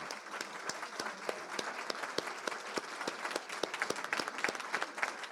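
An audience at a community awards event gives volunteers a sustained round of applause, dense steady clapping from a crowd heard from some distance, with no talking.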